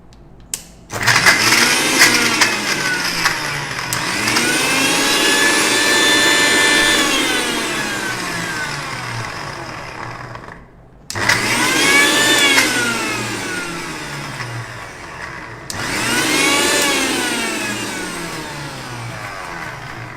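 Electric blender pureeing two sliced frozen bananas, loud whining motor in three bursts with rising and falling pitch as the chunks break down, brief pauses between runs.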